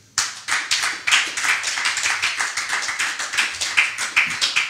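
A church congregation clapping and applauding together, a dense, loud burst of many hands in a quick, uneven rhythm that keeps going without pause.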